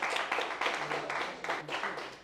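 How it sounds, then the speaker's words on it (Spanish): Audience applause at a talk on the metaphysics of the Mass, a steady wash of many hands clapping for about two seconds with slight swells, filling the room without a break. "¡Bravo! ¡Otro aplauso!"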